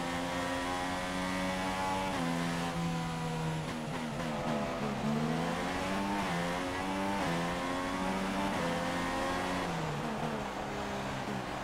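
An F1 2016 race car's engine screams loud and continuous, its pitch climbing repeatedly through the gears, dipping at each shift and rising again toward a high whine.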